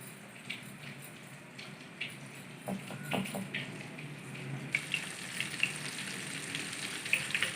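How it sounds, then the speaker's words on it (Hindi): Chicken wings dropped into hot oil in a kadhai, giving a steady close sizzle with crackling pops that grow busier toward the end, alone without talk. "हम कढ़ाई में डाल देंगे।"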